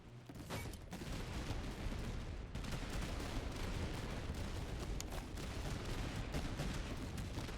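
Dense, continuous volleys of musket and cannon fire from an Austrian border troop battle in a strategy game, loud and sustained with a brief dip before the barrage resumes.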